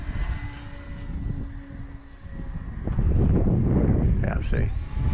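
Small electric motor of a ParkZone Sport Cub S2 RC plane whining in flight outdoors, steady then swelling louder with wind buffeting, a pitch sweep near the end, with voices talking over it.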